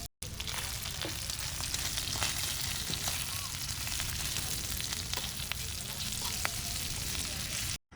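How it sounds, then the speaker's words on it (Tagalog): Food fries in a pan while cooking outdoors at a beach campsite, a steady dense sizzle and crackle that goes on for the whole stretch, with occasional faint stirring clicks. "magluluto na tayo ng pagkain guys"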